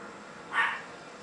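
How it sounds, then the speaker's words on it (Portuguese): A single short dog bark, fairly faint, sounds once against a steady background hiss from a game's audio. "Esse é meu cachorro latindo."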